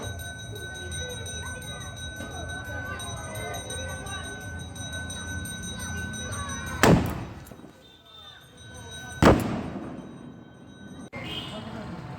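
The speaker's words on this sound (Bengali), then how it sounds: "বাজি ফাটানো" Two sharp, loud firecracker bangs burst out about two seconds apart, echoing over a busy crowd and chatter at a Shivaratri festival celebration at the Ramakrishna Vivekananda Mission in Madhupur.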